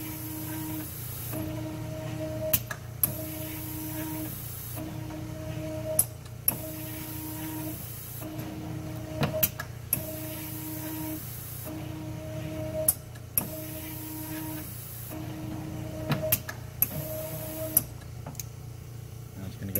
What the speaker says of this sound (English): hot dry, it's just going to blow hot nitrogen, heated nitrogen, on top of the wafer.